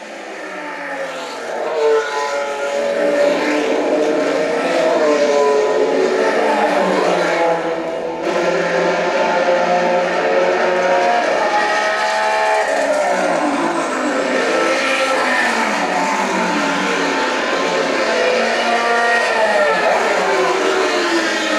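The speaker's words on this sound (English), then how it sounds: "But these cars are having fun, they're racing. This is Formula racing at its best." Race cars at the 12 Hours of Le Mans endurance event in Atlanta, Georgia, a steady, continuous engine roar from several cars lapping the track, loud and sustained with no clear gaps.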